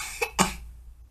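A person coughs twice in quick succession, close and fairly loud, the second cough stronger, then silence.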